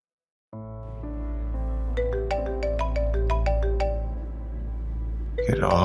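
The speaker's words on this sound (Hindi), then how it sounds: "राहा क्यों कॉल कर रही है मुझे?" A phone ringtone for an incoming call plays as a steady, loud electronic melody of repeated chiming notes for about five seconds, with sound cutting in sharply at the end.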